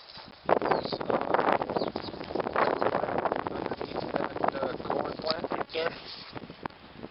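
Wind buffets the microphone outdoors in a garden on a hot, windy day, a steady rushing roar that nearly fills the clip while someone talks over it.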